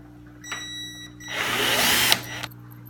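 Power drill driving screws into metal on a modified Harbor Freight workbench, with a brief whir and then a loud sustained grinding run lasting under a second before the motor cuts off, heard up close.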